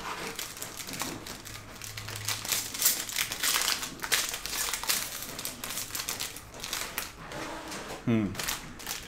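A Panini Mosaic Road to FIFA World Cup soccer trading card pack is torn open and handled, giving bursts of crinkling, ripping foil and shuffling card noise close to the microphone, with some talk.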